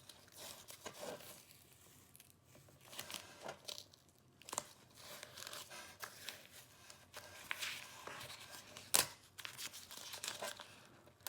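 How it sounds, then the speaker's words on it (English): Tape peeled off hardened epoxy, giving soft crinkling and tearing rustles in faint irregular bursts, close by, with one sharper crackle near the end. "I'm going to go ahead and remove the tape."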